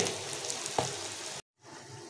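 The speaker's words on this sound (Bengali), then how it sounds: "চিকেন পকোড়াগুলো প্রায় ভাজা হয়ে আসছে" Dense sizzle of chicken pakoras frying in hot oil in a wok with a faint clink, cutting abruptly to a brief silence before quieter sizzling resumes.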